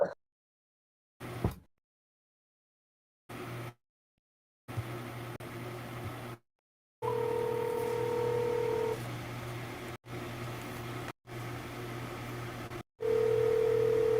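A phone call being placed: short bursts of keypad tones and steady dial tones come in separate segments, with quiet room hum and a fan in between and no talking.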